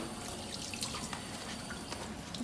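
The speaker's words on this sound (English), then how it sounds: "we're gonna rinse it off first" Running tap water splashing steadily over a surgical instrument as it is rinsed on both sides in a sink, a continuous close hiss with small drips and no talking.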